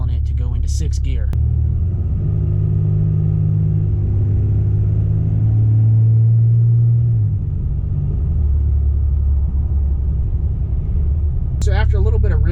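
A Cummins diesel truck cruises in sixth gear at around 1,000 RPM and 45-50 mph, its engine a steady, loud low rumble that runs the whole time, with brief speech at the start and end.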